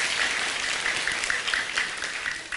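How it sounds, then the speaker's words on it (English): An audience at a motivational talk claps in a sustained, dense round of applause that stays steady and loud throughout. "Everybody give yourself a round of applause."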